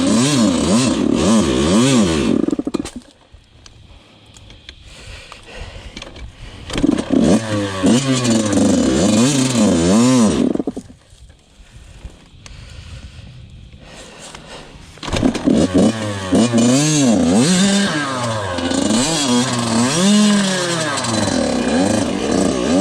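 A Yamaha YZ85 motocross bike revs hard on a slippery, root-covered uphill trail in repeated rising and falling bursts, dropping to a low idle in two quieter gaps before climbing again, loud and close.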